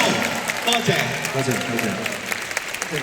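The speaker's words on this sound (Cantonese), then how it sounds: "我代表大家俾啲掌聲" Applause from a concert audience at a singer's 40th-anniversary show, a dense, steady clatter of many clapping hands filling the hall, with voices mixed in underneath.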